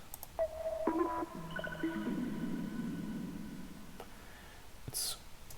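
Omnisphere 2 Modular Atmos pad: faint, sparse pitched tones enter one after another and hang over a soft shimmering wash, with a few small clicks near the end, quiet and voiceless.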